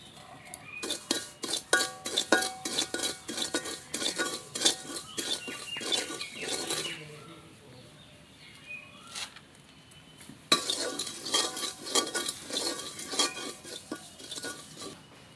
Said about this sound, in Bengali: প্রথমে সুজি একটু টেলে নিব।